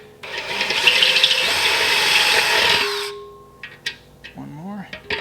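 A step bit drilling through metal on an intercooler job, a close, loud whining drill grind lasting about three seconds that stops abruptly, followed by faint clicks and a brief voice.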